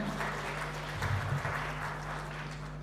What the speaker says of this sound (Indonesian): Aplaus untuk Fakultas Pertanian